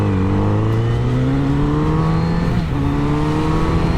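A Kawasaki Z900RS motorcycle engine with a snatchy throttle, droning steadily and loud, rising in pitch with a brief abrupt dip and recovery near the end as the throttle cuts on and off.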